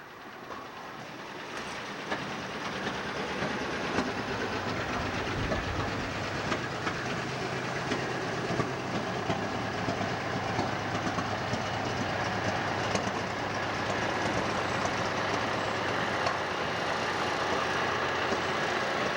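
A 1986 Pierce 3,000-gallon fire tanker truck rolls past in a volunteer fire department parade, a steady heavy rumble and rattle that stays loud and continuous throughout, with no talking.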